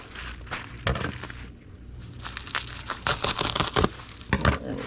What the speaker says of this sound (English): we'll go ahead and get a sheet of bubble wrap